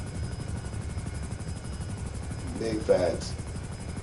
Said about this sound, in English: If you try me and I'm in this helicopter, you got to be crazy